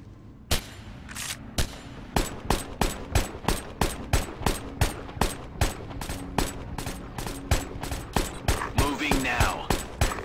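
Rapid gunfire in Ghost Recon 2: a long series of sharp, evenly spaced shots, roughly two per second, cracking loudly over a steady low battle rumble for the whole stretch.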